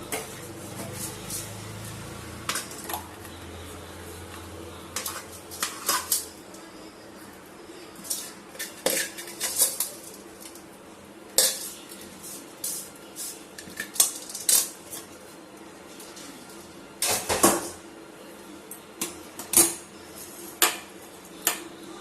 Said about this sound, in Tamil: இப்படி எடுத்துட்டு நம்ம ஒரு சின்ன பவுலில் நம்ம கொட்டிடலாம்